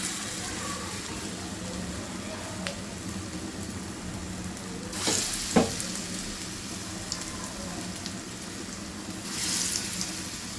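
Prawn and lentil fritters sizzle in half-deep hot oil, a steady crackling fry that runs throughout with a few louder bursts of spatter and clatter near the middle and end.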